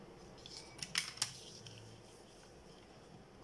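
Scissors make a few quick, faint snips through paper while a hexagonal pyramid model is cut out, followed by near silence.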